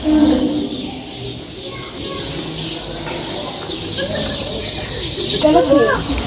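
Ducks and other birds at the Hurghada Grand Aquarium give scattered clucks and calls, with a brief flurry of quacking near the end over a busy background and some indistinct voices.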